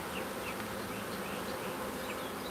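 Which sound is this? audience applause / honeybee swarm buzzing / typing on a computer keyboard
honeybee swarm buzzing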